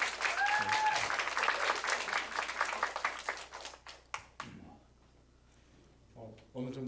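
A church congregation applauding the worship leader, a burst of clapping that swells then thins into scattered claps and fades, with a voice speaking over the tail.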